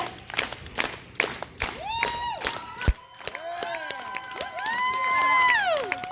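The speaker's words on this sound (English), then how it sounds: "Clap, clap. Getting you guys in back. Come on, clap." A festival crowd at an outdoor Renaissance fair fire performance claps in bursts and whoops, with whistles and shouts rising and falling over scattered talk from a performer.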